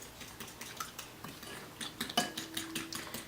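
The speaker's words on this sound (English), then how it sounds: "we're just going to give this a good mix together" Eggs and sugar being mixed by hand in a bowl for New Orleans-style French beignet dough, giving light irregular clinks and scrapes of a utensil against the bowl, close and fairly quiet, with no talking.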